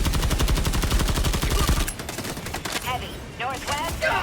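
Rapid automatic fire from the Pacifier gun in Helldivers 2, a loud, fast, even stream of shots for about two seconds, then stopping as voices and game sounds follow.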